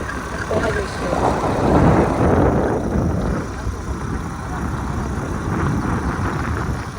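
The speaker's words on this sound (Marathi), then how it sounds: "पप्पा गाडी चालवत आहेत." Car driven by a father along a road near a river, its steady engine and road rumble running throughout under voices talking in the cabin.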